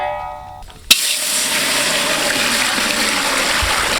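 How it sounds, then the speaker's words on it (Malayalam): A sharp clatter, then water pours into a pot of fried chicken biryani base in a continuous rushing splash that holds steady for a few seconds. "ഇനി നമുക്ക് വെള്ളം ഒഴിക്കാം അതിനകത്ത്."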